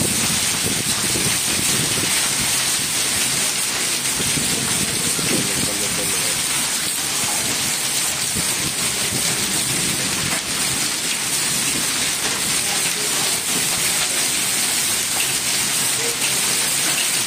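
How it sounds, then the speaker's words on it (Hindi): Heavy rain and hail pour down in a storm, a dense, loud, unbroken hiss with scattered sharp impacts, steady throughout the whole stretch. "देखो बड़े ही औले पै रहे हैं, बारिश घट औले ज़्यादा रहा।"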